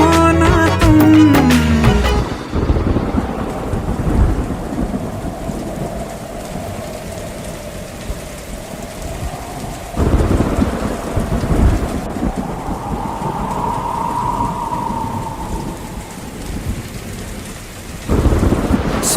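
Heavy rain pours steadily with rolling thunder, loud and continuous throughout, a deep rumble swelling in the middle and near the end. A sung melody runs faintly underneath the storm.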